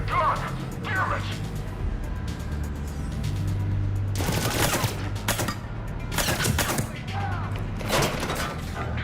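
Bursts of gunfire from the video game Mass Effect 3 crack out in several clusters, loud and close, amid game noise, with a low steady hum and voices talking in between.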